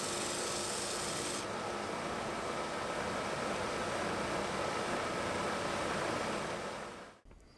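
Wood on the corner of a cantilever side table is sanded smooth in a continuous, close, rasping abrasion that holds steady for several seconds, then cuts off abruptly near the end.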